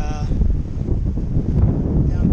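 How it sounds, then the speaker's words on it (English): Strong wind on a pier near a lighthouse buffets the microphone with a low, rough roar that gusts unevenly throughout; a voice briefly speaks at the very start. "It's really windy"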